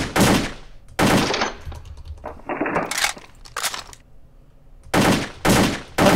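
AK-47 firing on a shooting range in the game World of Guns, several loud sharp bursts of rapid shots separated by brief pauses, with mechanical clicks between.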